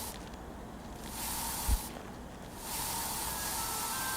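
In the survival game I Am Future, a sprayer mists garden plants one at a time: two or three soft, broad hissing bursts with short pauses between, close and steady, no voices.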